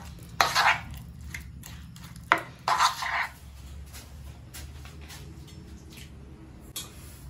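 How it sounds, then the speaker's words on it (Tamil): Prawn spring roll filling is mixed in a bowl, heard as a few brief clatters and scraping bursts against the bowl, then a quieter stretch of low background hum, close by and without speech. "இப்போ இதை நல்லா மிக்ஸ் பண்ணிக்கலாம்"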